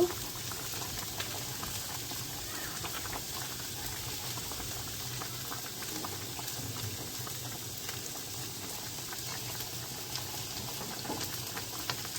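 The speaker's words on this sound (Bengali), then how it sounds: "ঝোলটা ফুটছে, এখন মাছ দিয়ে দিব।" Fish curry broth boiling in a pot, giving a steady, even bubbling and simmering hiss that runs unbroken for the whole stretch with no talking.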